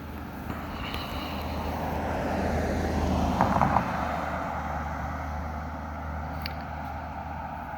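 Cars roll slowly over a tall speed hump in a Boca Raton residential community, a passing vehicle swelling and fading as a steady road rumble with faint wind, no speech.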